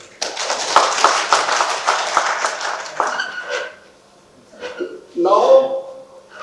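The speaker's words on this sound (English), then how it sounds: "Let us once again give a warm applause." Audience at a symposium applauding warmly, a dense sustained wash of clapping for about three seconds that fades out, followed by scattered voices and brief speech.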